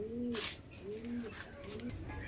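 Indian Teddy pigeons coo in a loft, three soft rolling coos in a row, close but quiet, with a voice murmuring faintly in the background.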